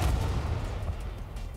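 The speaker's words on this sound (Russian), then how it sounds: "Он мне выстрелил в башню" In War Thunder, an enemy tank's cannon shot strikes the turret of a tracked Scimitar light tank, a loud booming impact that fades into a rumbling decay.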